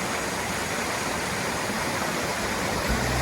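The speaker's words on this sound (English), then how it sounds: "that's another nice waterfall over here" Steady, loud roar of rushing water from a waterfall at Pala-U, broadband and continuous throughout, with no voices.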